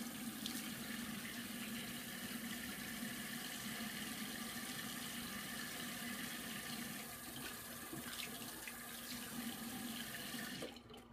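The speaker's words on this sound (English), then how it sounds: "so I'm gonna finish rinsing off" Water running steadily from a tap while rinsing off after a shave, a close, even rushing hiss with light splashing throughout.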